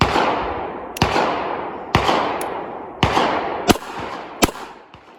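Handgun shots ring out in short groups at a range, several loud cracks with one quick pair near the end, over a steady background of echoing reverberation and distant gunfire, no speech.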